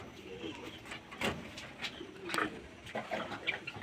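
Pigeons in an old-line loft flock, soft low cooing that comes and goes faintly over a quiet background.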